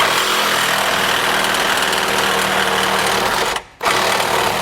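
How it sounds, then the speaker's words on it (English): An oscillating multi-tool cuts plastic trim during a Blue Ox base plate installation on a 2019 vehicle, a loud steady high-pitched buzzing whine that runs continuously and cuts out briefly near the end before resuming. "These little multi-tools work great for cutting out this plastic."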